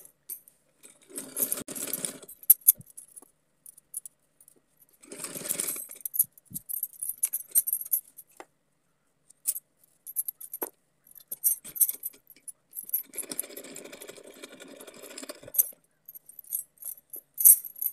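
Sewing machine stitching the waistband of a small doll dress, heard in three short bursts of quiet running with pauses and light clinks between them.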